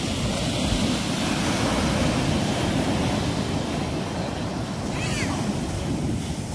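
Ocean waves break steadily on Dinadiawan beach in a continuous loud rushing roar, with wind buffeting the microphone throughout and no one speaking.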